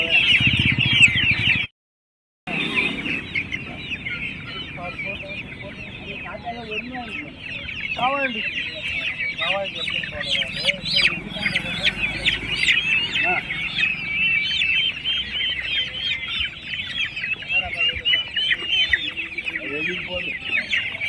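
Chickens at a chicken market cluck and squawk continuously at close range, with overlapping calls from a busy flock and faint voices mixed in.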